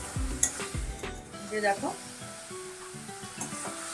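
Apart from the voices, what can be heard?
spices being stirred and sautéed in a pan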